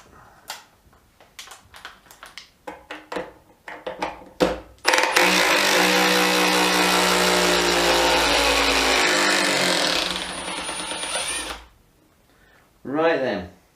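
A Bosch impact driver removes a screw: scattered clicks and short bursts first, then a loud sustained whirring hammering for several seconds that cuts off, followed by brief talk.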